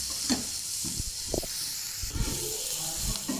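Onions and dried red chillies sauté in a pan for onion chutney. A soft hiss and sizzle runs throughout, with a few light stirring scrapes and no talking.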